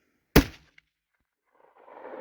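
A single loud rifle shot from a .257 Weatherby Magnum firing a handload of 71.5 grains of Reloader 22, a sharp close crack with a quick decay, followed by a faint outdoor rustle.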